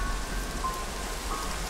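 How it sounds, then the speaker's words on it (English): Steady rain falling in the Minecraft video game, a continuous even hiss of drops on surfaces at moderate level with no talk over it. "No, it's raining."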